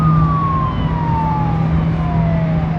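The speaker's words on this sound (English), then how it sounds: "I'm hearing what sounds like multiple sirens." Several emergency sirens wail across downtown Toronto near the lake on a summer day, with slowly falling tones overlapping above a steady drone of traffic and city noise, loud and continuous.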